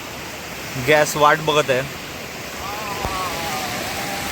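Cold water flowing at Trimbakeshwar, a steady broadband rushing wash like a stream, constant throughout, with someone speaking briefly over it near the start.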